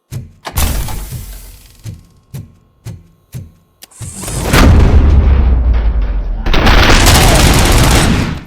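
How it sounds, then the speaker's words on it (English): Gunfire in the Robocop: Rogue City video game, a handful of sharp separate shots followed by long, loud, sustained bursts of rapid fire and booming blasts. "Am I hearing gunshots?"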